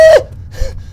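A voice imitates heavy panting with two short, breathy gasps, loud and close, with a brief quiet gap between them.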